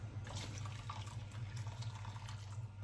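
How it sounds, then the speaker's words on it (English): A steady stream of about a pint of water pours into a pot holding ginger, a continuous gentle splashing with a low hum beneath. "Let's add 1 pint of water."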